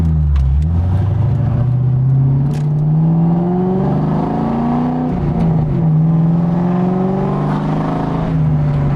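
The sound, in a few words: 2002 Mustang GT with SLP exhaust accelerating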